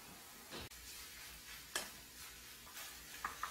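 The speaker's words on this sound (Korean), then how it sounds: "이제 밥을 넣고 같이 볶겠습니다." Rice stir-fried with cup ramen in a pan: a faint, steady sizzle broken by a few scraping stirs of a utensil against the pan, with no talking.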